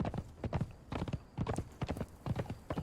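A horse's hooves clip-clop steadily in Conan Exiles, a quick, even gallop of close, punchy hoofbeats that fills the whole stretch, with no one speaking.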